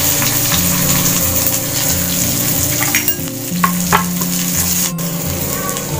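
Onions sizzle and fry in a pan while being stirred for tomato kuruma, a loud continuous crackling hiss with occasional scraping and clinks of the spoon, no voices.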